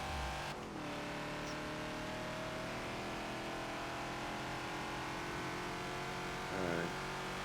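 Ford Falcon XB race car engine in the Forza racing game, lapping Hockenheim National: a steady, loud droning engine note held throughout, with a brief shift or rev change near the start and another near the end, no talk.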